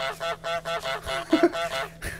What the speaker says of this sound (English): Now honk! Honk to assert your dominance!